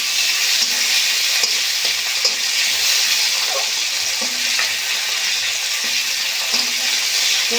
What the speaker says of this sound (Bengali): একটু ভালো করে পেঁয়াজ আর টমেটো ভেজে নেব।